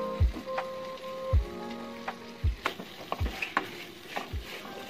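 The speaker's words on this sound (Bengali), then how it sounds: "ক্যাপসিকাম দেওয়ার পর আমি কিছুক্ষণ কষিয়ে নিয়েছি" Capsicum sautéing in a pan for a paneer curry made without onion or garlic: a soft, steady sizzle with five or so distinct scraping stir strokes of a spoon against the pan, close and fairly quiet, no talking.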